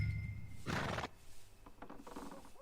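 A horse in the video game Red Dead Redemption lets out a loud, shrill whinny that breaks off abruptly, followed by soft scattered hoof clops and rustling.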